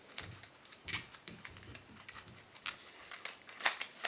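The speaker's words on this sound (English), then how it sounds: "You can move the legs outward slightly, and they click into some positions" Mattel Dual Attack Concavenator dinosaur toy legs being moved outward, producing a series of small, sharp plastic clicks and ticks spaced irregularly, close and fairly quiet, with no talking.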